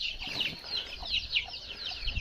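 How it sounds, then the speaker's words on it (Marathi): A hen clucks softly while many small chicks peep in rapid, high-pitched chirps nearby, steady and busy throughout. "हे नुकतेच एका कोंबडीने पिल्ले काढले आहेत बघा"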